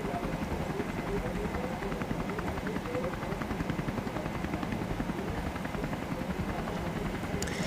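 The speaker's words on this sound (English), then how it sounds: "So the organization chose to use a helicopter." A helicopter filming a mountain trail race at the 2023 World Mountain and Trail Running Championships gives a continuous, pulsing rotor thump at steady volume, with voices talking underneath.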